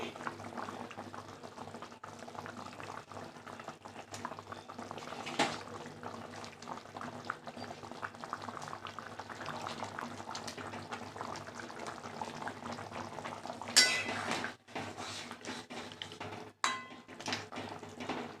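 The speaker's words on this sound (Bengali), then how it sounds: "গ্রেভিটা তো ভালোভাবে ফুটে গেছে এবার আমি মাছগুলো দিয়ে দিচ্ছি" Fish curry gravy for a rohu dish bubbles steadily in a pot on the stove, a continuous low simmering wash with occasional clinks of utensils and a brief louder splash near the end.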